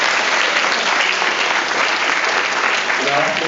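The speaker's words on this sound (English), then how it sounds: "So give them a round of applause." Applause from an audience honoring award-winning cadets at a battalion change-of-command ceremony, a dense, steady clapping that holds at full strength for the whole stretch without letting up.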